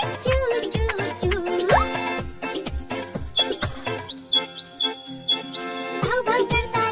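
Bright chirping of a cartoon bird in a 3D kids' rhyme, a string of quick high tweets in short bursts over a bouncy musical backing, with singing around the calls.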